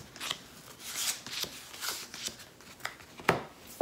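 Playing cards dealt out during a home math game called Lucky 13, heard as a series of soft, quick papery flicks and slaps at irregular intervals, fairly faint and close with no talking.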